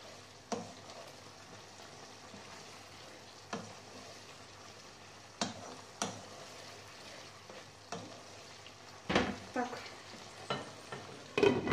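Zazharka, a fried vegetable base, frying in a pan: a soft steady sizzle with repeated sharp stirring scrapes and clacks, closer and louder toward the end, with no talking.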